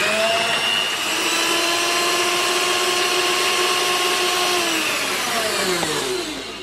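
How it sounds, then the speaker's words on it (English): Kitchen mixer rubbing butter into flour for brioche dough, a loud steady motor whine that holds its pitch and then slows and drops near the end. "You can do this by hand with your fingers, but we're going to do this in the machine."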